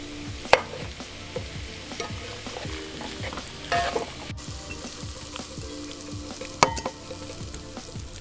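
Beet greens sautéing in a pan, a steady low sizzle with repeated stirring scrapes throughout and a few sharper clinks of the utensil against the pan, close and unaccompanied by talk.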